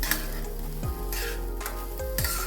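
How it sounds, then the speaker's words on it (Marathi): Washed and dried moong dal dry-roasting in a pan for halwa makes a steady close sizzle, broken by a few sharp scraping stirs over a low background hum. "रोस्ट करायची ब्राऊन होईस छान भाजून घ्यायची तिला"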